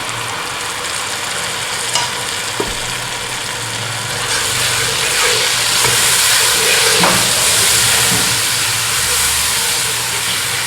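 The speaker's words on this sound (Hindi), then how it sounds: "इस मसाले को अच्छी तरह भूनेंगे।" Tomato paste masala frying in a pot for a restaurant-style beef karahi, with a continuous hissing sizzle and occasional stirring clatter.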